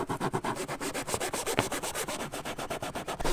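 Rapid back-and-forth rasping of sandpaper on a dinghy's hard surface, steady rhythmic strokes close up, moderately quiet with no talking.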